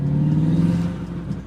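A VW MK7 Golf R engine, heard from inside the car, hums and revs in a steady low drone that rises slightly, then eases.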